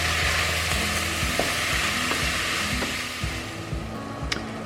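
Sliced champignon mushrooms sizzle and fry in a pot for mushroom soup with salt and pepper, a steady close crackle broken by occasional stirring clinks, no speech.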